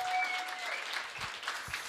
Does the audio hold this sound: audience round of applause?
yes